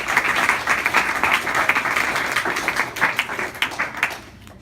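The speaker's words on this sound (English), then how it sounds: "So round of applause for Cindy." An audience at a Saturday spiritual service breaks into a round of applause, a dense wash of many hands clapping at a steady level that fades out near the end.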